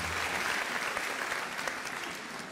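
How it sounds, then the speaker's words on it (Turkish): Studio audience on a Turkish TV talk show applauding: a steady wash of many hands clapping together at moderate volume, slowly tapering off toward the end. "ama bunu bir alkışlayalım"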